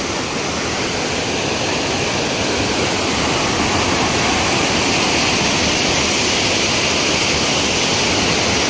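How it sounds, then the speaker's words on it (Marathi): Steady, loud roar of rushing water, a dense continuous wash like a waterfall close by, with no voices. "हा धबधबा आहे"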